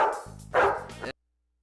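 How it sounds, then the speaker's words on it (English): A dog at a welcoming party for hero dog awards gives a couple of close, short barks that end abruptly, with no talk during the barking. "maybe bark at him a little bit."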